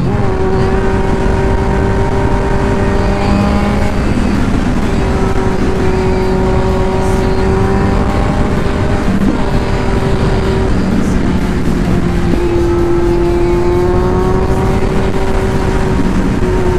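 A Kawasaki Z900SE motorcycle rides on a wet road in the Batangas, Quezon and Laguna area, its engine droning steadily and loudly throughout with shifting pitch as it changes speed.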